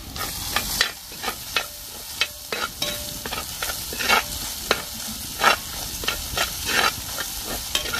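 Curry leaves sizzle and crackle in hot oil in a pan, a steady frying hiss broken by repeated sharp pops and stirring clatter throughout, with no voices.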